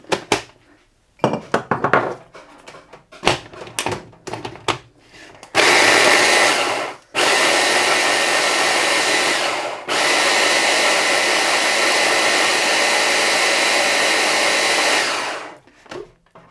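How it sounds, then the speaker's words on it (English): A food processor blitzes green chilies for lamb seekh kebab, a loud steady whirring roar of about ten seconds with a brief pause, after several clattering knocks and handling sounds. "my food processor, and I'm just going to give this a quick blitz just to break everything down"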